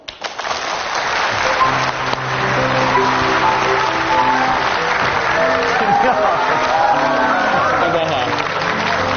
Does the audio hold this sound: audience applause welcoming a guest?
yes